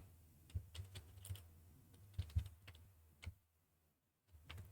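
Quiet, close keystrokes on a computer keyboard while renaming a website page, irregular bursts of clicking taps, then a short pause before a few more.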